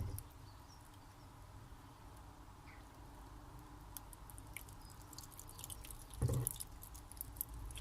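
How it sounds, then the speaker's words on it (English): Water dribbles into a seed tray of leek and spring onion sowings in a greenhouse, a faint soft pattering and trickling that swells briefly near the end. "And once again, I need to water."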